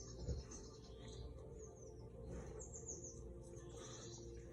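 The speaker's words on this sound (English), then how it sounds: "my birds over there, nature, and that's free" Pet birds chirp and tweet in scattered short calls at moderate distance, mixed with low background rumble and faint household noise; no one talks.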